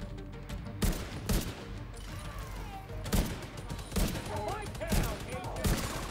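Covering gunfire in The Division 2 crackles as sustained rifle bursts, sharp shots popping at irregular intervals over a dense battle background, moderately distant.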